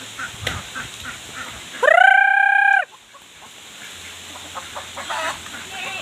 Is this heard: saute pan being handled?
no